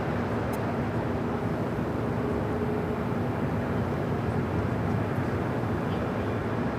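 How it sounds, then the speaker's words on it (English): A Korean Air Boeing 747-8 jet airliner approaching LAX on the downwind leg gives a steady, distant broadband jet roar, fairly faint and unbroken, with no talk over it. "Korean Air Flight 11, 747-8 coming in from Seoul on the downwind leg"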